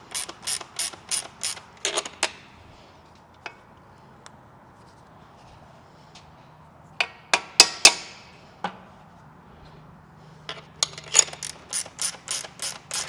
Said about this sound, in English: I'm just tightening these down so that the lock washers kind of go flat